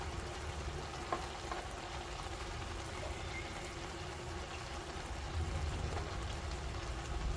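Carrot halwa cooks in a pan, giving a faint, continuous sizzle and soft bubbling that runs quietly throughout.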